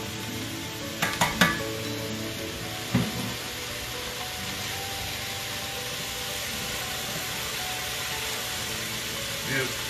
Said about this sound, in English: I'm gonna get these mirepoix nice and brown